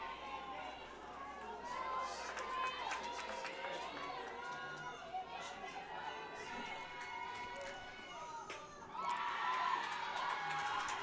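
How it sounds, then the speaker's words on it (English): A college softball team in an NCAA game shouting and cheering loudly from the dugout for a pinch hitter, excited voices and whoops layered continuously, swelling louder near the end. "Whitworth loudly cheering on all their pinch hitters and freshmen and pinch runners"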